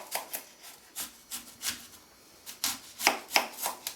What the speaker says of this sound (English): You need to cut through the apples right through the core